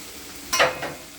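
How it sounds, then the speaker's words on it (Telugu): Chicken and vegetables for noodles stir-fry in a pan, giving a quick burst of sizzling and scraping as the food is tossed, then a second softer sizzle over a quiet steady frying hiss. "చూడండి వెజ్జీస్ కూడా మంచిగా ఫ్రై అయిపోయినాయి బాగా"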